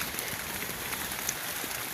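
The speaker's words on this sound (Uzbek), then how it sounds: "Mana yomg'ir yog'ishi ham boshladi." Rain falls outdoors over a maize field, a steady faint patter of drops across a wide area with no voices.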